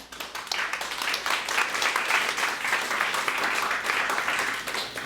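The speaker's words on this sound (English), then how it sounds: "So big warm applause for Sashko." A tech meetup crowd in San Francisco gives warm applause for an incoming speaker, a sustained wash of many hands clapping that swells quickly after a faint start and holds steady, with no talking.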